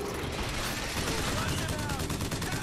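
Dense gunfire from Bioshock Infinite rattles on without a break, loud and busy, with a voice speaking faintly underneath.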